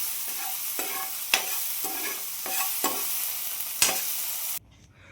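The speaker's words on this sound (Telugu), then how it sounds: "అలాగే టమోటా ముక్కలు కూడా వేయించేసుకుంటున్నానండి." Tomato pieces and green chillies fry in oil with a steady close sizzle, broken by several sharp scraping stirs of a spatula against the pan before the sound cuts off near the end.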